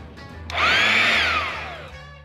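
An electric pump inflates something. Its motor starts abruptly and whines close and loud, the pitch rising and then slowly sagging as it strains, and it winds down after about a second and a half.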